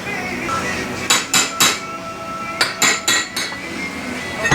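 Sharp metallic hammer strikes on a flat punch installing Hunterworks secondary rollers in a Polaris General clutch, two groups of three ringing blows each, close and loud.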